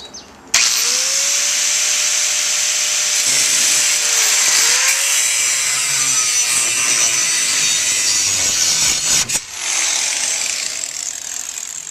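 A power saw cuts through wooden table legs, a loud steady grinding rasp running continuously for about nine seconds before the blade cuts out, with a shorter burst following, no talking.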